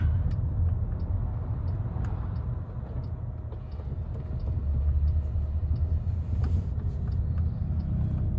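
Inside a driverless Waymo car moving through Phoenix traffic, a steady low road rumble and tyre roar continue throughout with only slight swells. No voices are heard.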